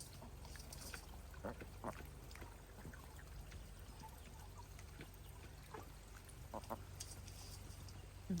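A garden hose runs steadily on a homestead where ducks are drinking, a soft continuous pour and trickle of water heard faintly, with occasional small bird or duck noises at a distance.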